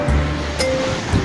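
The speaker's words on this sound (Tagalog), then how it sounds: "sobrang lakas ang alon" Strong surf driven by heavy wind churns steadily at the shore in a loud, continuous rush.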